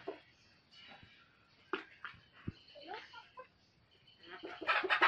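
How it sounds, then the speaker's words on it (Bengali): A native hen that has just laid an egg clucks in short, irregular bursts nearby, with quiet gaps between calls and a louder, busier run of clucking at the end. "মুরগিটা কিন্তু কেবল সদ্য ডিম পারলো"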